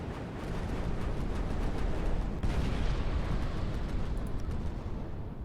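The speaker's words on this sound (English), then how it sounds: "I'll take a thermal barrage now, if you please." Thermal missile barrage raining down in the strategy game Final Theory, a dense, continuous rumble of overlapping blasts and impacts that holds at a steady loud level throughout.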